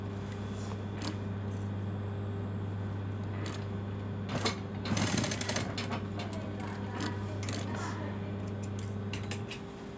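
Domestic sewing machine running steadily while stitching the side seam of a dress lining, a continuous low motor hum with light mechanical clicks and a brief louder burst partway through.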